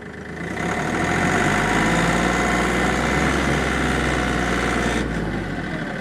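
A Kioti CK3510 compact tractor engine idles steadily at close range, a continuous low rumble with mechanical vibration holding constant throughout, with no talking over it.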